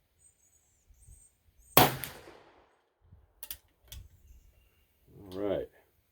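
A single loud report from a .44 caliber #2 Remington rolling block rifle fired outdoors on a hot day, a sharp crack with a short decaying tail, followed by faint clicks and a brief voice.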